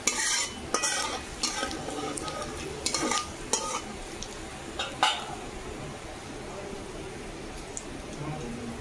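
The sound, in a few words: panch phoron spices frying and being stirred in a pan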